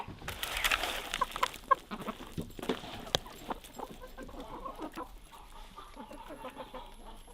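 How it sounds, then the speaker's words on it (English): Broody hens clucking inside a dark backyard chicken coop, a run of soft irregular clucks and calls close by, with occasional sharper bird sounds and no talking. "We've got 2 broody hens."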